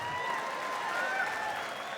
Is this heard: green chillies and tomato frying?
no